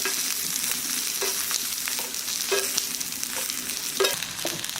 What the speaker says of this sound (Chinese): 把肉肠的表皮煎脆煎黄